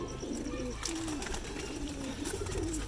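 Pigeons coo in soft, low, rolling calls, several in a row against a steady background hum.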